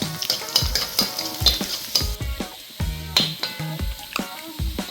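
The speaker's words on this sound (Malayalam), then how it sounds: "എണ്ണ നന്നായിട്ട് ചൂടായ എണ്ണയാണ്. അതിലോട്ട് നമ്മൾ വെളുത്തുള്ളി ഇട്ട് കൊടുക്കുക." Garlic sizzles and crackles in hot oil in a pan while being cooked for homemade gobi manchurian, with close, repeated metal scrapes and taps of a spoon stirring it, and no talk.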